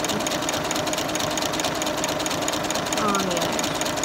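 A sewing machine runs steadily while sewing down face mask elastic, a close continuous mechanical whir with a faint voice underneath.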